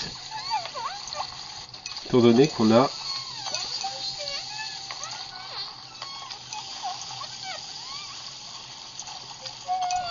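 Water splashing and sloshing in the Sprinkle physics game on an Asus EeePad Transformer tablet, two short bright bursts under steady spoken French commentary.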